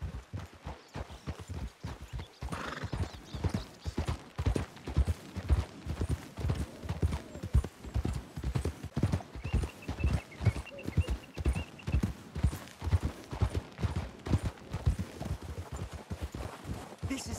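Horses trot at a steady pace in the Red Dead Redemption 2 video game, their hoofbeats clip-clopping in a rapid, continuous rhythm, close and fairly loud, with a brief whinny early on and faint ambient sound beneath.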